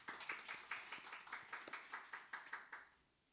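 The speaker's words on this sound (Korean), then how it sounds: "우리 박수 한번 할까요?" A church congregation claps for newly formed couples, a faint and slightly uneven run of many hands that stops just before the end.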